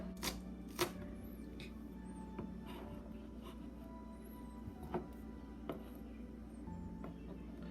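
Knife chopping green onion on a cutting board, several sharp taps spaced irregularly over a low background hum, fairly quiet and close, no talking.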